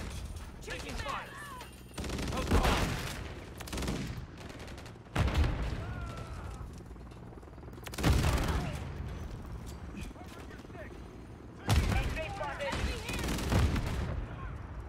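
Gunfire in the video game Call of Duty MW3 erupts in four loud, sharp bursts separated by short lulls, each trailing into rattling echoes, with radio-style voices chattering between the shots.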